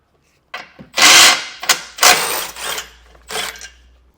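15 mm bolts being removed from the bottom flange of a 2018 Jeep Cherokee bumper beam: several close, loud bursts of a power tool or ratchet whirring, each a second or less, separated by short pauses.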